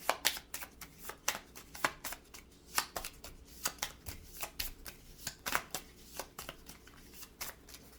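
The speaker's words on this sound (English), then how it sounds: "I need to shuffle the deck because we are out of cards." A deck of cards is riffled and shuffled repeatedly up close, a fast, crisp run of fluttering snaps in an irregular rhythm.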